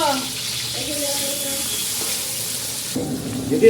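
Onion and garlic frying in a pan with bay leaves for a chicken dish, giving a steady broadband sizzle throughout with faint tonal hum beneath and a brief stirring clatter near the end.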